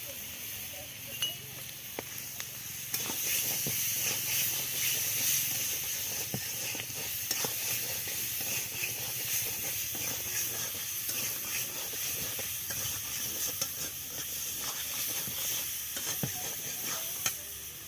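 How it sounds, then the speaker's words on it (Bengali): Garlic sizzles steadily in hot oil in a pan for a tuna curry made with mustard, a broad constant hiss with faint scattered crackles, growing a little louder after a few seconds and holding on alone without talk. "এইবার আমি রসুনটা দেব।"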